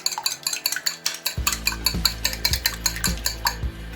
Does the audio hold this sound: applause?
no